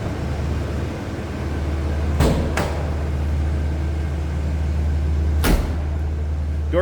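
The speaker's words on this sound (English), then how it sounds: "Door closes nicely." The door of a 1982 Buick Riviera convertible closes with a couple of sharp thuds close by, followed by another firm slam a few seconds later, over a low steady hum.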